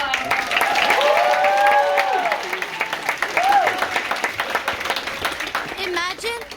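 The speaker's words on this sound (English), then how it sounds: "let's have wild applause for Faatiha" An audience at a New-York Historical Society speaking event claps for the next main-stage speaker, a steady burst of applause with some cheering that thins out into scattered claps as voices come through.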